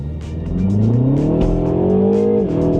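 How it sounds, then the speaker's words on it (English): A new Mini Cooper S accelerating hard from a standstill on a wet road, its engine note climbing loudly through the revs with quick gear changes, heard from inside the car. "First things first then, can we hit 60 before the corner?"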